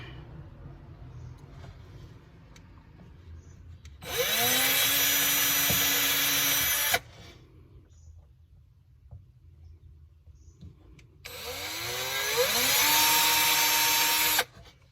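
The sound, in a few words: power drill drilling into plywood floor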